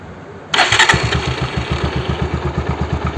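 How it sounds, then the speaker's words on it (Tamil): A Bajaj DTSI motorcycle engine catches abruptly after a quiet lead-in, then settles into a loud, steady, close idle with an even thumping pulse. "பைக்கை ஸ்டார்ட் பண்ணுங்க."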